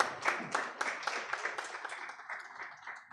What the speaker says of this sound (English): Let's give a round of applause to the Uganda Law Society.